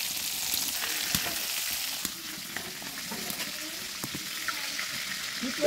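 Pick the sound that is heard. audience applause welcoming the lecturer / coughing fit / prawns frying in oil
prawns frying in oil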